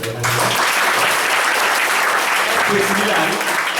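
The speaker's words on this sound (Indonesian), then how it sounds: "boleh tepuk tangan buat Pak David Hendrawan." Loud, dense applause from an audience, steady throughout, with a brief voice at the very start.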